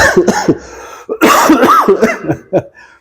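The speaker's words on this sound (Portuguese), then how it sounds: "E eu vou tossir mais uma vez." A person coughs repeatedly in harsh, rasping bursts with short gaps between them, close to the microphone.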